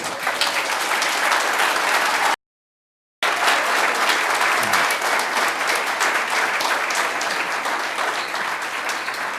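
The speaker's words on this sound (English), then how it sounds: "the longer you clap, the less they're going to get to speak" Audience at a school board meeting breaks into loud, steady applause that continues for several seconds, broken by a brief moment of silence.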